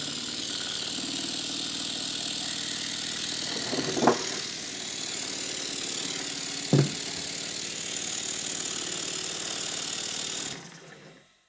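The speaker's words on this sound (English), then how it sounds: "The timing on this engine is now set to perfection, and it runs very well indeed." A Stuart model steam engine with correctly set valve timing runs steadily, giving a continuous even mechanical whir with two brief knocks, then stops abruptly near the end.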